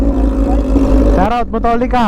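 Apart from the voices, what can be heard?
sportbike exhaust revving loudly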